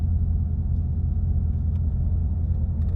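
A supercharged Pontiac Grand Prix idles nearby, a deep, steady low rumble holding level without revving, close and unbroken for a few seconds.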